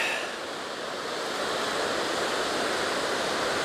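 Strong river current rushes near Hraunfossar and Barnafoss waterfalls, a loud, steady broadband roar of churning water that swells slightly after the first second.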